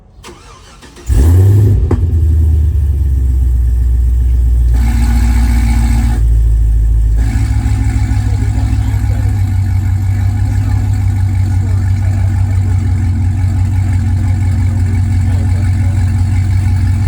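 A Cadillac CTS-V engine turns over and settles into a loud, steady, deep rumble from a new exhaust with valves closed, with a brief rise in revs early on.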